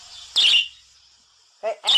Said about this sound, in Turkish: Şimdi lanet kuşu çağıralım.